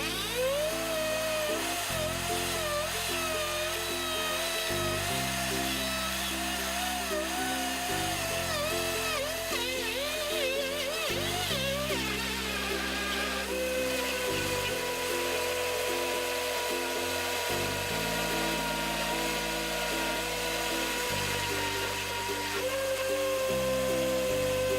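A countertop blender runs continuously, blending a roughly 50-ounce plant-based smoothie with the tamper in use, a steady loud whirring motor with periodic pulsing shifts in pitch as the contents churn, no voices over it.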